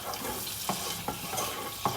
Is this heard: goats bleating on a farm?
no